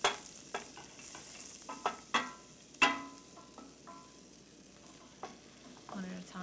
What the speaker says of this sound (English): Now we're gonna add our meat.